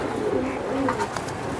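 A silver pigeon coos softly in low, rolling notes, faint against a steady background with no talk.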